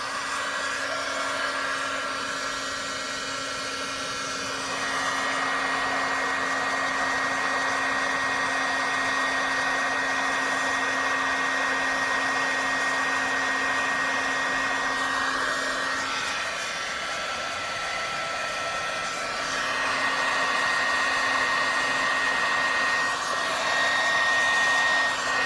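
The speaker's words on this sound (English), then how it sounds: "I'm going to grab my heat tool." A heat tool for embossing powder blows steadily and loudly throughout, a continuous whirring hum with slight shifts in pitch as it is moved over a wedding card, with no talking.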